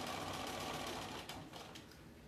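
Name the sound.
sewing machine stitching a fabric basket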